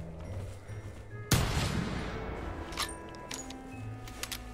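A single loud rifle shot aimed at a werewolf in the hunting game theHunter, a sharp close crack with a long rolling tail fading over a few seconds, then quiet with faint clicks.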